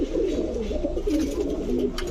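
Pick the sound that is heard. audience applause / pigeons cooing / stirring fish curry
pigeons cooing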